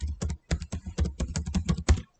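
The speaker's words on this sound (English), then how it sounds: "I'm just typing it myself" Computer keyboard typing a spreadsheet formula by hand, with quick bursts of close, crisp key clicks in an uneven rhythm, about a dozen strokes in a short run, with no talk.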